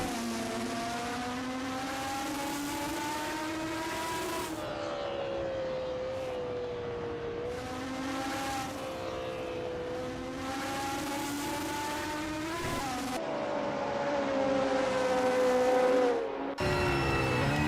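A WSC60 Matra M630 BRM race car laps Kyalami in a racing game, its engine note rising and falling steadily through gear changes and revs, loud and continuous with brief drops between sections.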